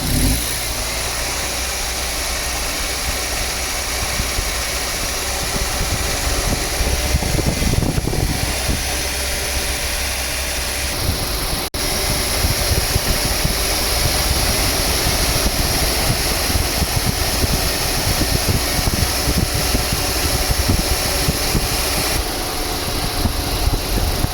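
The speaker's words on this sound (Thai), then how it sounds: "เร่งเครื่องหน่อยครับ" A loud Chevrolet Sonic car engine drones steadily for a long stretch in hot sun, its pitch swelling and easing as it is revved during air-conditioning repair, with no voices.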